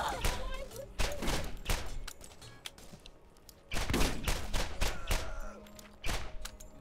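Bursts of gunfire from shooting in the Borderlands video game, with repeated loud volleys of shots and brief pauses between them, close and dense, with some game sounds underneath.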